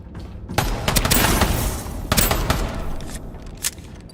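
Automatic gunfire from a gun hip-fired in a video game, with bursts of rapid shots filling most of the clip, a brief pause, then another burst and a final shot.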